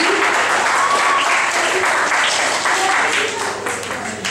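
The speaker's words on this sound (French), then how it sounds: "On l'applaudit." Steady applause from a school audience for a contestant at a spelling bee, dense and sustained throughout with faint voices mixed in, tapering slightly toward the end.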